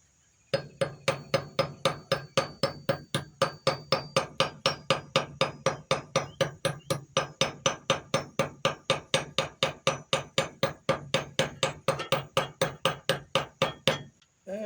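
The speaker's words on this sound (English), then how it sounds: "We'll lay that on the anvil and peen it over once we get the other." Hammer peening over pins on an anvil while forging a Bowie knife: a long, steady run of about forty sharp, ringing metal blows at a brisk even rhythm, close and loud, with no talk.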